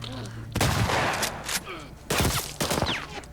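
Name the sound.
shotgun gunfire in video game The Last of Us Part II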